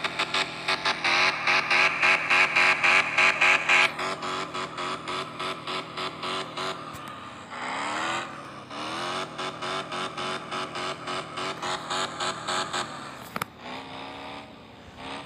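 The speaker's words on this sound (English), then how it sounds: "Now we are going to drift the car and test the drifting limits of this car." A 2017 BMW i8 drifting at a driving school: loud, pulsing engine revs with rhythmic on-off throttle, a rising whine and tire squeal sweeping through midway, then the revving bursts resume, close and continuous with no talk.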